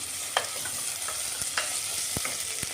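A pot of khichdi on the stove with finely diced potato tipped in and stirred, giving soft scraping and clinking spoon strokes over a steady close sizzle, with no talking.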